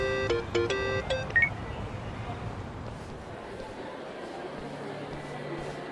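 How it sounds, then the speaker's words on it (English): Phone ringing in the video game Yakuza: Like a Dragon, a few quick electronic ringtone bursts at the start that stop after about a second and a half, followed by low background ambience and talk. "Kasuga, call me on your phone."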